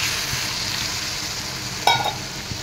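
Bitter gourd and fish frying in a pan hiss steadily as water is added, with a brief louder burst of sizzle near the end of the short stretch.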